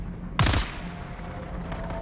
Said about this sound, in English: Do hear some gunfire.